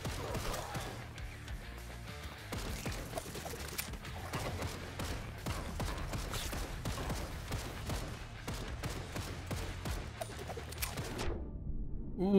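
Gunfire crackles in Madshot, a rogue-lite acrobatic shooter game, as a dense, continuous stream of rapid shots and small impacts with chirpy game effects, carrying on steadily before cutting off abruptly near the end.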